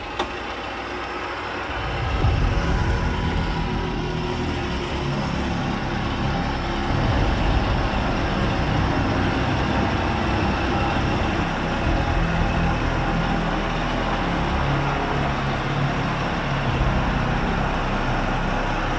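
Winch pulling a 2023 Jeep Gladiator with a custom bumper, a loud steady mechanical whine and engine rumble starting after a brief quiet moment and holding constant, close and without talk.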